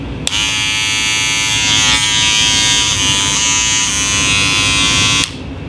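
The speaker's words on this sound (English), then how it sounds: "This has a rotary motor in it. And if you listen to it," Wahl Senior clipper with a rotary motor running steadily and loud from start to stop, a constant high buzzing whine that dips slightly in pitch partway through, alone with no talk.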